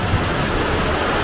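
Heavy rain pours down in Kerala as a steady, dense hiss of drops on surfaces, loud and close, with no voices.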